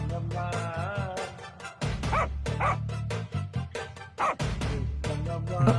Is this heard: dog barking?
yes